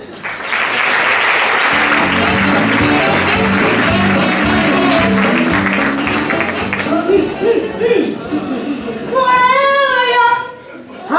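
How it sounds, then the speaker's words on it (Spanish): Loud audience applause greets a comedian at a stand-up monologue show, clapping and cheering for several seconds before fading as a voice and music-like tones take over toward the end. "Un fuerte aplauso para Alba Val y su monólogo Adolescentes."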